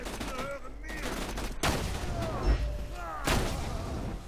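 Sniper rifle shots in Borderlands 2, a couple of sharp, loud cracks with booming tails amid ongoing game noise, while someone talks over the action.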